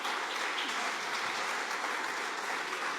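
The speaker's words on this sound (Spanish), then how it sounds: "Den un fuerte aplauso al Señor Jesucristo." A church congregation at a Spanish-language service claps together in a steady, continuous burst of applause lasting a few seconds, fairly distant and even, with no voices rising above it.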